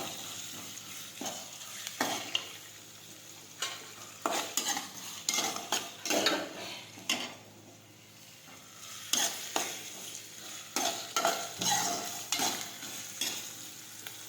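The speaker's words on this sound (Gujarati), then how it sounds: "સમારેલા કાંદા નાખીશું. હવે આપણે સાતળી લઈશું." Chopped onions sautéing in a pan, a soft steady sizzle punctuated by frequent clattering strokes of a spoon stirring and scraping, rhythmic bursts close up with no voices.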